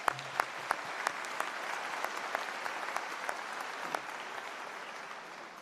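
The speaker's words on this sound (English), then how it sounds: "Join me in a round of applause." A convocation ceremony crowd claps steadily in sustained applause, dense and even throughout, with a few sharper claps standing out near the start.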